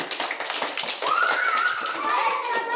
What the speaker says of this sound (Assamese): সকলোৱে হাত তালি দিয়া